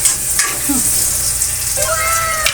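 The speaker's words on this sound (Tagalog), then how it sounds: "Gigisa lang, doon na ginisa sa kaldero kasi para yung sabaw, tuloy na." Mussels sizzle as they are sautéed in a pot, a loud close frying hiss with a few stirring scrapes and clinks.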